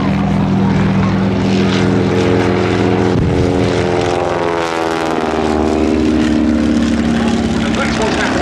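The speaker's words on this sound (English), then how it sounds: "that's what's happening now as the Fokker tries to get onto the tail of the Sopwith triplane" A Fokker and a Sopwith triplane, both WWI fighters, dogfight at an airshow. Their rotary engines buzz loudly and shift pitch as they swoop past, with one sweeping by close mid-way while a voice talks over them.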